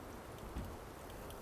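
Monsoon rain falls steadily outside a train running through the Sakleshpur–Shiradi ghat section, a soft, even hiss of drops with one low thump, faint and without speech.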